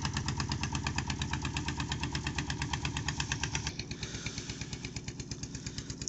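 A 2021 Suzuki Gixxer SF motorcycle engine runs close by with a steady, rhythmic idle that stays loud throughout, with no talking.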